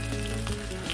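Whole garlic cloves sizzling in hot fat in a pan while pork loin cooks, a steady close frying hiss with small crackles and no talk.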